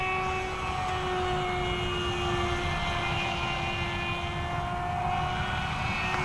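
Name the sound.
Flite Test STEM Jet Charlie RC plane flying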